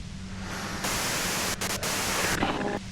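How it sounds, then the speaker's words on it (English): A radio in the video game Disco Elysium hisses with white-noise static, a steady dense hiss that jumps in level and briefly cuts out partway before resuming, close and alone. "you can do it through the white noise"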